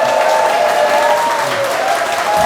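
A lecture audience claps and cheers loudly for a guest speaker being introduced, a sustained, dense wash of applause with no break.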